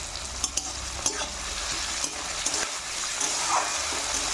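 Onions frying with a little salt in a pan, a continuous close sizzle broken by a few soft knocks of a stirring spoon, no one speaking.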